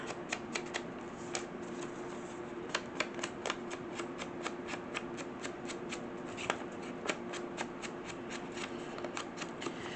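Scissors trim the edge of a paper page for a junk journal, a rapid run of crisp, close snips and paper crackles in steady rhythm, quiet, with no talking.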